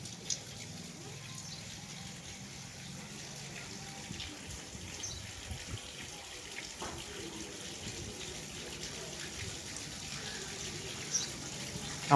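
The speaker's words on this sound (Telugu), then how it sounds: "నీళ్ళు ఆపుతున్నావా పడుతున్నావా?" Tap water runs steadily into a container at a village home, a continuous close splashing gush with a few faint knocks and no talk over it.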